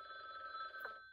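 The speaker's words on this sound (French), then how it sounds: "C'est quoi le bruit de téléphone?" The telephone ringing alert from the Gartic Phone video game plays as a soft, steady electronic ring with a short break near its end.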